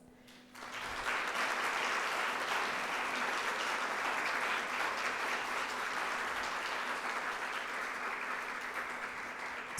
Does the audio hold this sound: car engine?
no